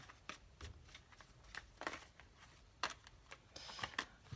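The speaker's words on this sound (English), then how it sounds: "Then we lay the cards out." Tarot cards are laid out one by one on a table, giving scattered soft slaps and sliding flicks at irregular intervals, close and fairly quiet.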